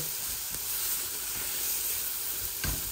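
Sliced onions frying in a little oil over high gas flame, a steady bright sizzle and hiss with a few faint stirring knocks, close and continuous.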